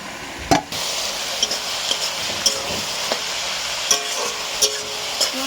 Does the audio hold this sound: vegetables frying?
yes